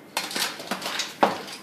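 Several soft clinks and clatters of beans set into the bottom of a cooking dish, irregularly spaced, close by and fairly quiet, with no talking.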